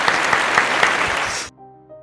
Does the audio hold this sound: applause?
yes